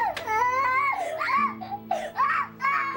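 A young child screams and cries loudly in a home, wailing in long rising and falling bursts close by with brief breaks between cries.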